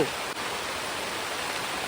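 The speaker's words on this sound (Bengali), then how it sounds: "হঠাৎ বৃষ্টি শুরু হয়ে গেছে" Sudden rain falls at night as a steady, dense wash of even noise, unbroken and moderately loud, with no voices.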